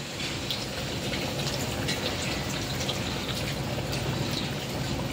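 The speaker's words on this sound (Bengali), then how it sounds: "এখন আমি জল দিয়ে দেবো।" Water poured into a pan of chicken and potato curry, a continuous, fairly loud rushing splash that holds steady throughout, no talking.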